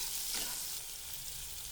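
Onions frying in a pan, heard as a steady bright hiss and crackle of hot oil that holds evenly through the short stretch, with no voices.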